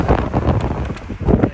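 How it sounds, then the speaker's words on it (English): A strong gust of wind buffets the microphone outdoors, making a loud, rough rumble in uneven surges over a second and a half. "We have a big gust."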